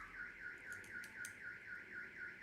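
A car alarm blares outside a home in Bayamón, a rapid warbling siren cycling evenly about every quarter second, heard faintly at a distance and continuing without pause.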